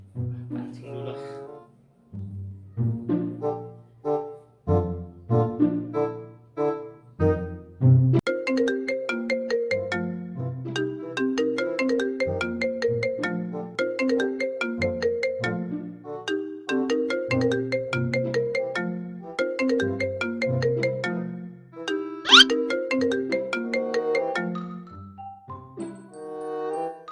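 A melodic phone ringtone for an incoming call, playing loud and close as a looping tune of bright chiming notes for nearly half a minute, with no talk over it.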